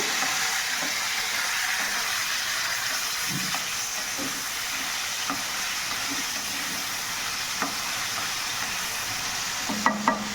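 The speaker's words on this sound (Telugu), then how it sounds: "ఇప్పుడు టమాటాలు వేసుకున్నామండి. ఇవి బాగా మగ్గాలి." Tomatoes and cucumber seeds cooking in oil in a pan give off a steady, even sizzling hiss, with a few soft utensil taps near the end.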